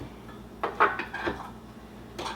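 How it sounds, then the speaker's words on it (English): Flour is mixed into cottage cheese pancake batter in a bowl, giving a few light clinks and scrapes of a utensil against the dish over a quiet background. "Now we add 4 tablespoons of flour and mix those together."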